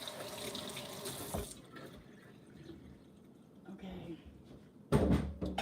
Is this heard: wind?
no